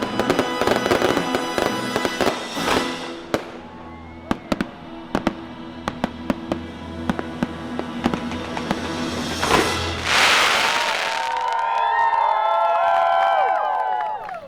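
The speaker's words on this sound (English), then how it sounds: "the fireworks are so intense. You can like really hear the sizzle and feel the boom" Rapid bursts of firework bangs and crackles at a Disneyland night show, loud and close, followed by a sizzling crackle and distant cheering from a crowd.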